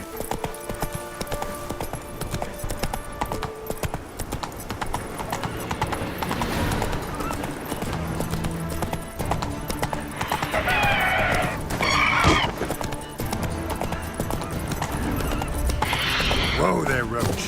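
The horse Roach gallops in a video game, hooves clip-clopping rapidly and continuously beneath game effects, with mechanical clanks and a brief whinny-like burst near the middle, and a voice speaking at times.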